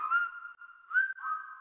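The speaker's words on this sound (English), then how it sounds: "We'll even whistle while we work." A person whistles a short, steady melodic tune in a radio ad, clear and alone with no talk over it.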